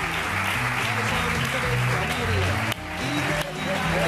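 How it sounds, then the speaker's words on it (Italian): A studio audience applauds loudly on an Italian RAI 1 television show, with the steady clapping mixed with background music and voices throughout. "che applauso!"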